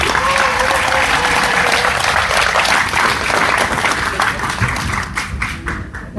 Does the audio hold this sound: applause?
yes